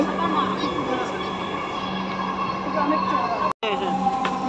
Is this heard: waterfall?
no